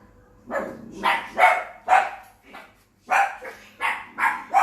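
A dog barks repeatedly in an uneven series of sharp, close barks, about eight in all, with short pauses between them.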